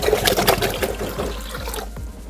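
Water pours into a cooking pot on its way to a boil for Indomie noodles, a loud splashing gush that softens and tapers off over a couple of seconds.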